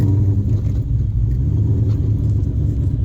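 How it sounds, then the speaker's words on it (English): Cold start of a 2003 Ford Mustang Cobra engine with aggressive cams, a loud, close, heavy low rumble that runs steadily throughout, with no voices. "let's get this thing started up and let's check this thing out"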